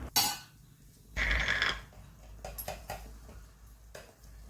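A spoon scrapes and clinks against a pan while melted sugar is stirred into a barfi mixture, giving a few short bursts with quieter gaps between them, close by and without talk.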